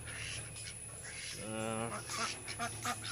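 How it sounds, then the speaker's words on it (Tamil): A duck quacks nearby in a short harsh burst, followed by a few more brief calls amid faint background noise. "வாத்து இங்கே தான் இருக்குது"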